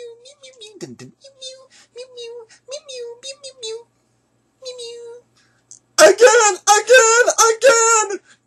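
A high, childlike voice imitates a cat with a rapid string of repeated meows, quiet at first, then louder and more strained toward the end.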